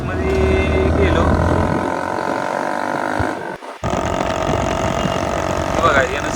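A vehicle engine with its silencer removed runs loud and close, a raw steady drone broken by a brief dip mid-way, with voices talking over it.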